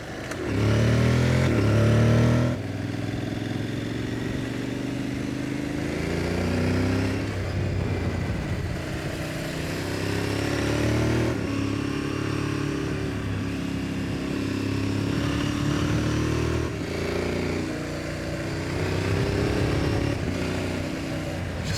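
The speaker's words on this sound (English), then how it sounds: "Just love that this bike, you can hustle it around like it's a supermoto." Aprilia motorcycle ridden along country roads in England and Wales, its engine droning steadily with shifting revs and gear changes, close and continuous throughout.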